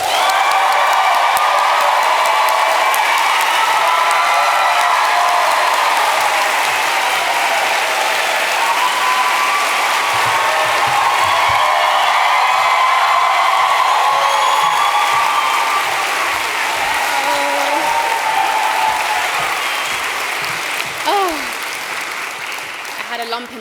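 A studio audience applauds and cheers to welcome a guest onto the stage, loud sustained clapping with whoops that fades slightly toward the end, with some talk underneath.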